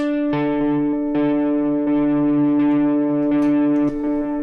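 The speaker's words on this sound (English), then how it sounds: "the space echo is for shorter delays or the oscillating feature" A Space Echo delay pedal on guitar self-oscillates into a loud sustained harmonic drone, with repeats pulsing through it at a steady rhythm and no talking.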